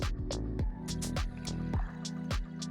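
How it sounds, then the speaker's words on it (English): In the Minecraft video game, a water bucket is emptied into a bathtub, giving a quick series of bright, bubbly dripping and gurgling splashes that repeat rhythmically at a steady, moderate level. "We have to crouch again, fill that in, and then fill in the bathtub."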